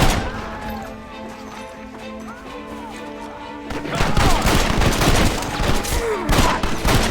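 Rapid gunfire in a Red Dead Redemption video game shootout, loud dense volleys of shots crackling together, shouting voices underneath at first before the firing grows heavier and more continuous.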